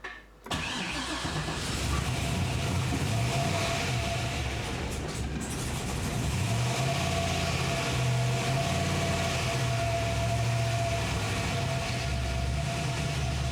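A Datsun car engine catches after a brief crank and settles into a steady running drone, held with a little throttle, then revs gently up and down over many seconds, close and loud with no talking.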